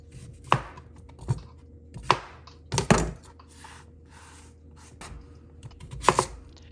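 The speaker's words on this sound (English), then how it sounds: "wash and peel and then chop all your sweet potatoes" Sweet potatoes chopped on a cutting board, sharp knife thuds landing one at a time at uneven intervals, close and clear over a quiet background with a faint hum.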